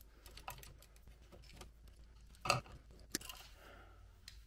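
Cutters snip the wires off an old, worn electrical outlet receptacle: two sharp, quiet clicks about half a second apart over faint room noise.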